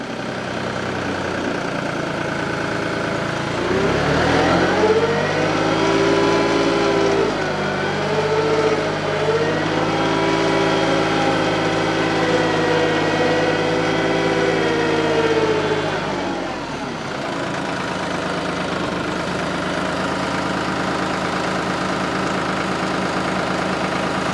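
A TYM 2515 hydrostatic compact tractor idles steadily nearby with a bottom plow on the three-point hitch, its engine note rising briefly then settling back to a constant drone, with no talking.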